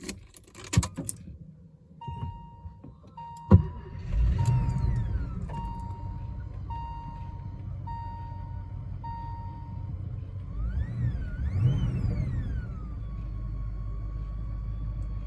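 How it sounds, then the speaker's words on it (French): A 1975 Mercedes 450 SEL 6.9 V8 starting up: keys jangle, a chain of steady warning chimes sounds, then a deep engine rumble takes hold and settles into a continuous low idle with a rising, swooping whine. "démarrage du mythique V8, c'est parti"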